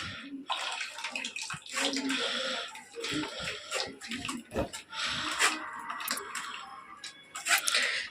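Mint leaves strained through a sieve while making mint sherbet, with wet splashing, trickling and squishing sounds in irregular bursts, close and fairly quiet.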